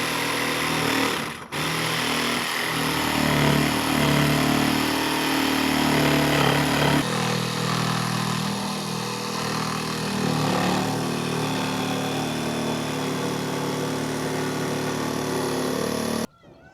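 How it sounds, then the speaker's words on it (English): A jigsaw cuts through a board for a chicken coop, a loud continuous buzzing saw drone held for many seconds before cutting off abruptly. "what we're having to use is a jigsaw, so you got to have a hole to get the blade in initially"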